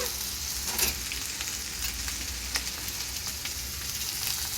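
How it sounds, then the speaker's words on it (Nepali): Masala sizzles steadily in a hot pan, a continuous close crackle and hiss with a few brief stirring scrapes and pops. "मसला फ्राई भयो।"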